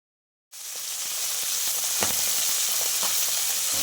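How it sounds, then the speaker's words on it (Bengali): Tilapia fish drop into hot oil in a wok and sizzle loudly, the hiss starting abruptly after a moment of silence and holding steady, with a few faint pops and clinks. "তেল গরম হয়ে গেছে, এবার মাছগুলোকে আমি এক এক করে ছেড়ে দেবো"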